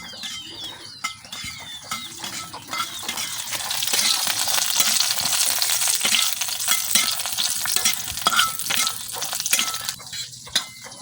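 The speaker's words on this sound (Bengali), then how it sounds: "এখন শুকনা মরিচ গুলা দিয়ে দিতেছি।" Dried red chillies crackle and sizzle in a little oil in a wok, with a steady close frying hiss and occasional stirring scrapes, heard alone without talk.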